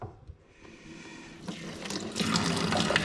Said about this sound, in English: I'm just going to run it just enough to dampen the upper of the shoe.